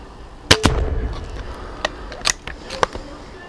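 A BSA Ultra SE air rifle fires at a snowman outdoors, giving a sharp close crack followed by a quick second snap, then a few lighter pops and thuds at intervals.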